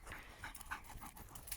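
A dog pants rapidly and close by on an open forest heath in a dry August drought, quick rhythmic breaths carrying on without pause and with no talk over them.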